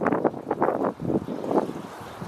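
Wind buffets a camera's built-in microphone outdoors, producing loud, uneven low rumbling gusts that surge and drop repeatedly over a couple of seconds.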